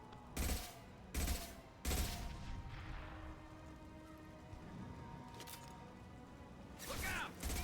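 Heavy gunfire in the Mass Effect 2 video game: a few sharp, loud bursts early on, then a rumbling, clattering lull before another burst near the end.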